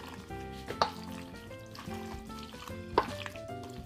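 Carrots and onions fry in a pan with a steady sizzle, punctuated by a couple of sharp clinks of a utensil stirring, with no talking.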